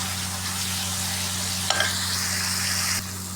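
Spice paste sautéed in a pan sizzles in a steady, dense hiss with a low hum underneath, a brief scrape of stirring near the end, and no voices.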